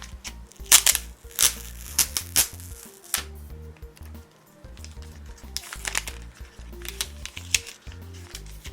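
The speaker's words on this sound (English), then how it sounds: "we'll do the ultimate Apple plastic wrap noise of unwrapping it, so we can all hear it" Plastic wrap being peeled and torn off a boxed Apple TV, with close, crisp crinkling bursts in irregular clusters over steady background music.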